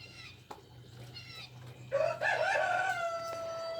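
A rooster named Rooster Cogburn crows in a garden with climbing roses, one drawn-out call rising and holding after a few faint clucks, clear and fairly near.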